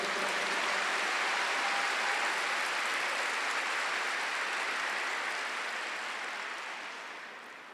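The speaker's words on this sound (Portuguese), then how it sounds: "Se você entendeu, pode aplaudir mais forte." Audience applause at a Holy Week preaching event: a dense, steady wash of clapping from a large crowd that holds strong and then slowly fades toward the end, with no voices over it.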